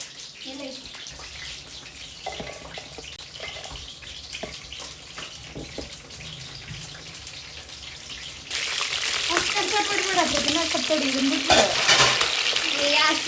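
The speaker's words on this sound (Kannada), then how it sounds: "ಈಗ ಅದು ಎಣ್ಣೆನಲ್ಲಿ ಎಲ್ಲ ನೀಟಾಗಿ ಫ್ರೈ ಆಗಬೇಕು" Brinjal frying in oil gives a soft sizzle at first, then a louder, denser crackle in the second half as stirring adds clatter, close to the listener, with a voice speaking briefly.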